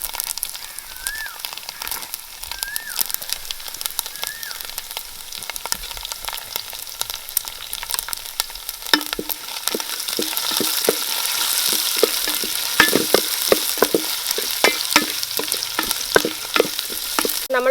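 Ginger and garlic sizzle and crackle in hot oil with grated coconut in a pan for a Kerala-style beef fry, steady frying with stirring scrapes, growing louder and busier partway through.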